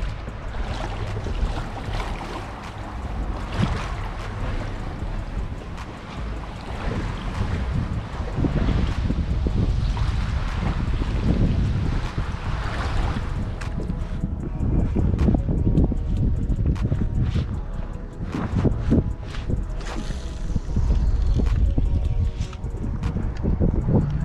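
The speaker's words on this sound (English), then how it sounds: "Windy on this side too." Strong wind buffets the microphone outdoors during a fishing trip in cold rain near the water, a steady loud rumbling roar with gusty swells and a faint hiss of rain and waves underneath.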